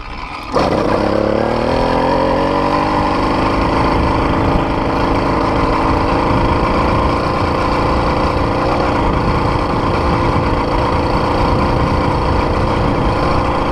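An 80cc two-stroke engine kit on a bicycle starts and runs, settling into a steady, loud, buzzy drone held close for over ten seconds without pause.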